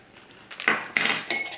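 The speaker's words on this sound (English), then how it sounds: "So I'm just gonna scoop it right into the infuser." Loose tea scooped into a metal basket infuser gives three short metallic scrapes and clinks, each a bright burst with a soft rustle between, close and fairly loud with no talking.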